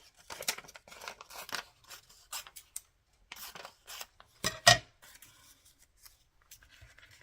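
Scissors trim paper pages for a journal in short, scattered snips and light paper rustles, quiet and close, with pauses between cuts and one sharper snip near the middle.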